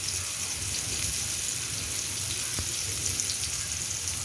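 Stuffed bitter gourds (karela) fry in a pan with a steady, even sizzle and faint bubbling that holds at a constant level throughout, with no talking.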